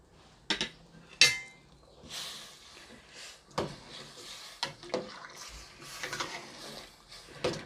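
Pork jungle curry with bamboo shoots and fingerroot stirred in a pot, scattered clinks and scrapes of a utensil against the pot with a few sharp knocks, faint and irregular, alone.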